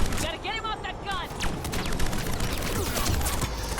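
Sustained gunfire from an enemy's mounted gun during a mountain monastery battle in Mass Effect Legendary Edition, a dense loud clatter of rapid shots running throughout with game effects layered on top.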